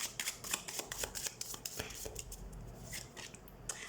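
Tarot cards are shuffled and drawn, producing quick flicking, riffling snaps in a close, busy run that thins into scattered single card slaps toward the end.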